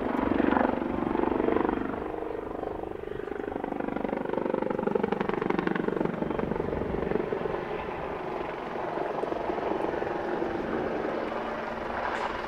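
A Westland Wildcat military helicopter flies past at a seaside airshow, its steady rotor and turbine roar continuous and fairly loud throughout, swelling slightly early on with a rhythmic blade chop, no voices.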